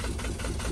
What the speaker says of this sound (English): Engine's ready to go. It's ripping, skipping.